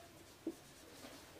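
Pen writing on paper while a maths problem is worked out, faint soft scratching strokes with one brief louder tap, quiet and close.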